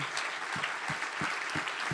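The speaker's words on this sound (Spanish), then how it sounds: "Dele otro aplauso al Señor." Steady applause from a church congregation, dense clapping filling the whole stretch at an even level, with a few soft low thumps underneath.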